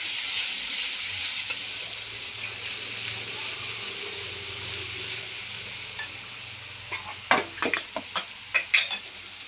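Vagharela pav masala being stirred together with mayonnaise in a hot pan, a steady soft sizzle and scraping that turns into a few sharper spoon clicks and knocks near the end.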